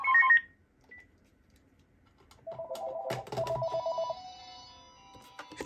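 A Motorola L402C cordless phone receiving an incoming call gives a short electronic chirp, then after a pause a longer warbling ring tone with beeps, moderately loud and close, with no voices.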